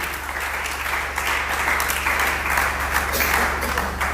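A church congregation claps in praise of the Lord, steady, dense applause filling the room continuously and fairly loud, with no voices over it.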